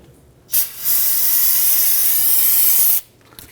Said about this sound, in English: go ahead and use your spray solvent